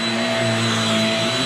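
A vacuum cleaner runs loud and close with a steady whining drone while vacuuming couch covers, no speech over it.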